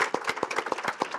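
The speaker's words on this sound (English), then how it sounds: "if we can give them a round of applause," A small audience claps for a workforce discussion panel, a brief burst of distinct, rhythmic handclaps that are fairly near and moderately loud, with no speech.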